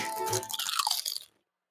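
A loud, close crunch of potato chips being bitten and chewed in a radio advertisement, then a sudden cut to silence.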